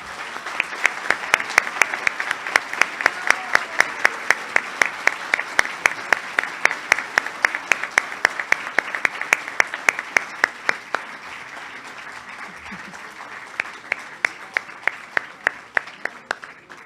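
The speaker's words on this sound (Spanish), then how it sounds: "Otro aplauso entonces para comenzar." An audience applauds at a formal national tribute ceremony, a sustained round of steady clapping from a crowd that thins out toward the end, with sharp individual claps standing out over the rest.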